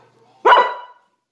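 A single loud, close bark from a dog wanting to go outside, sharp and short, standing alone against near silence.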